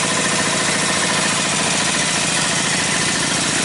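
A Briggs & Stratton 18hp opposed-twin engine with dual carbs and dual exhaust running steadily, a loud, dense, close rumble with a fast even pulse throughout and no voices.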